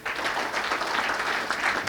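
A panel audience at an employee engagement event applauds, a dense, steady patter of many hands clapping together, fairly close and continuous for a couple of seconds.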